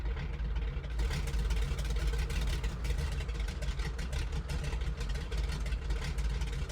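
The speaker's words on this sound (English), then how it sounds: "let's go outside so we can actually hear the engine" A steady, rumbling radial engine of a Grumman JRF-6B Goose in a flight simulator runs continuously at a constant throttle, loud and close, with a deep low-end drone.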